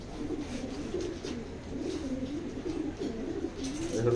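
Fancy pigeons, including a pure Banlun hen, cooing softly in low rolling bursts, close by and fairly quiet against light background noise, with no talking.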